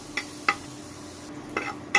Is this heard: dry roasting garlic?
yes